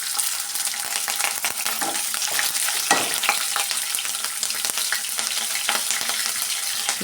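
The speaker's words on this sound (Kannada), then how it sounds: "ಇದೆಲ್ಲ ಸೇರಿಸಿ ಸ್ವಲ್ಪ ಕೆಂಪಗಾಗೋವರೆಗೂ ನಾವು ಫ್ರೈ ಮಾಡ್ಕೊಬೇಕು." Green chillies fry in hot oil for shavige bath, a vermicelli dish, giving a dense, continuous close sizzle with scattered stirring clicks and scrapes and no voices.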